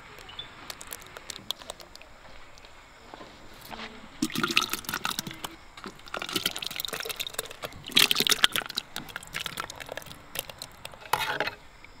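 Jelly liquid poured over colorful mixed fruit, including papaya, in a mould for a watermelon jelly: a steady wet trickle with splashy surges and drips, rising and falling over several seconds.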